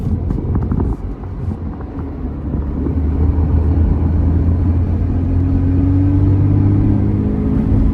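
A Porsche 911 Carrera 4S of the 997 generation drives along with its engine as a steady, loud rumble that builds and holds through the run, with no talk over it.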